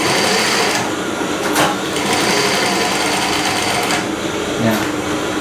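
A sewing machine stitches a double welt (bound) pocket onto a garment, running loud and steady close by with a continuous buzzing whir and only slight dips in speed.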